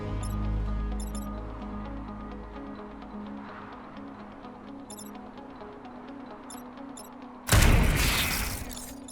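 A mech fires on an enemy unit in the turn-based strategy game Into the Breach, a sudden loud blast near the end after a stretch of low ticking and droning game music.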